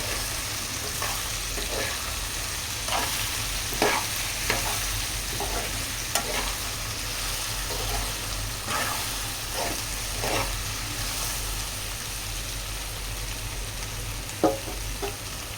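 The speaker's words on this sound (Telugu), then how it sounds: "ఇలా బెండకాయలు వేసుకొని అయితే కలిపేసుకుందాం." Okra is stirred in a pan of hot oil, giving a quiet, steady sizzle broken by repeated scraping strokes of a spoon.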